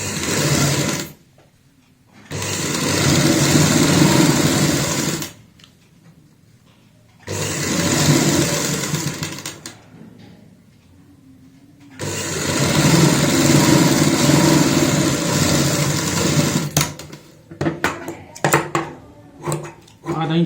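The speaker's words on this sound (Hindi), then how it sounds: "अब हम यहाँ पे सिलाई लगाएंगे इस निशान के ऊपर।" A sewing machine stitches a designer pintuck piece of palazzo fabric in loud, close bursts of steady whirring, separated by quiet pauses, with clattering handling noises near the end.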